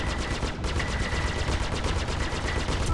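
Spaceship guns in Star Citizen fire a rapid automatic stream, evenly spaced bursts pounding steadily for the whole stretch, loud and close with a sustained tone running beneath, and no voices over it.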